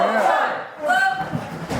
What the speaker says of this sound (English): The crowd want him to do it again.